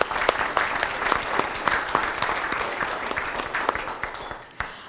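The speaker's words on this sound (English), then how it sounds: "A round of applause." A room full of people applauds at a public event on housing, steady dense clapping near and moderately loud, with no voices over it.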